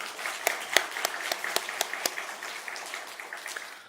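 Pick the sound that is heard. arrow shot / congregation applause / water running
congregation applause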